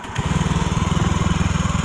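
A Honda Beat ESP scooter, with a fault that kept the rear wheel turning, runs during a repair test. The close, loud engine beats out a fast, even pulse that holds steady the whole time.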